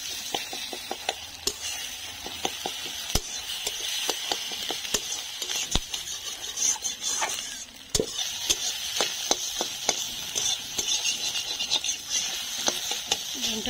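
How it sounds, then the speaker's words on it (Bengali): Egg frying in hot oil in a wok, a steady crackling sizzle punctuated by sharp clicks and scrapes of a spatula stirring and breaking it up. "একটু ঝুরি ভাজার মতো করে ভেজে নিই ডিমটা।"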